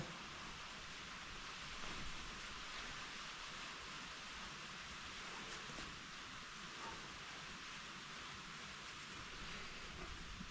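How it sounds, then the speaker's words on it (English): Soft, steady rain patter with a faint broadband hiss, fairly quiet and continuous throughout, no voices. "it's starting to rain a little bit, so we're gonna have a little background noise"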